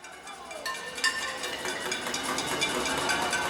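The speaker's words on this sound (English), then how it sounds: "What you're hearing is the sound of a protest." Venezuelan street protest with demonstrators banging pots and pans, a dense, continuous metallic clatter from a crowd, heard at a moderate distance as a steady noisy wash with no clear speech.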